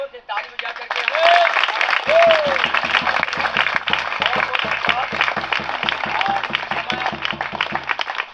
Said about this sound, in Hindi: हम लोग जोर से ताली बजा करके